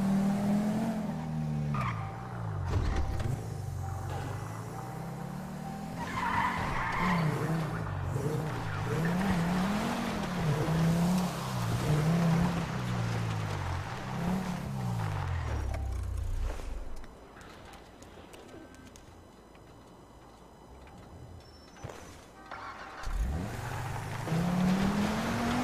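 A car in the video game GTA RP revs and wavers in pitch as its tires skid. The loud engine runs steadily before cutting off sharply midway, then picks up again near the end.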